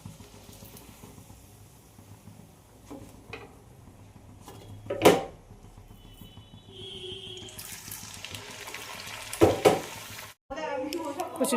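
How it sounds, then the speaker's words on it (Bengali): Hing kachuri frying and puffing in hot oil in a home kitchen, a steady soft sizzle with a few louder clatters and stirring sounds, plus brief tap water near the end. "কচুরিগুলো ভাজছে আর সব প্রত্যেকটা কচুরি ফুলেছে"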